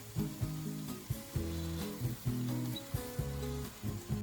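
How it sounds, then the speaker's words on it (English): Onion and tomatoes sauté in olive oil in a pot, a close, steady sizzle overlaid by rhythmic knocks and scrapes of a utensil stirring every half second or so, no voices. "I'll add some olive oil to a pot and I'll saute the onion for a couple of minutes so it softens a bit"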